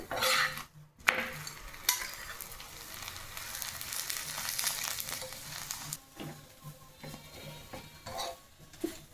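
A sattu-stuffed paratha fries in oil in a pan, with a soft continuous sizzle, a few utensil knocks and scrapes, and quieter stretches, heard close with no talking.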